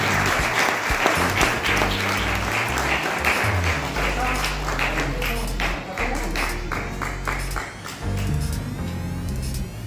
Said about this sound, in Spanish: os voy a pedir que lo deis todo para dar un aplauso